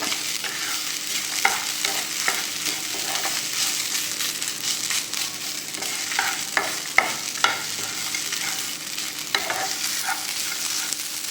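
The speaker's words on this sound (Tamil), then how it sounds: "இஞ்சி பார்த்தீங்கன்னா நல்லா வதக்கணும்." Ginger sautéing in a pan for ginger tamarind chutney, a steady close sizzle with repeated scraping stir strokes and small clicks throughout, no voices.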